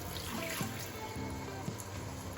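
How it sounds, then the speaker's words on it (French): Water that fish soaked in trickles and splashes steadily into a simmering pistachio egusi sauce, a close continuous liquid pour with faint drips. "Je vais rajouter cette aussi, qui est l'eau dans laquelle j'avais trempé le poisson."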